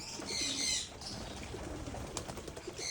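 Soft coos and faint chirps of Giribaz pigeons mingle with a brief flutter of wings, quiet and close, with no talking.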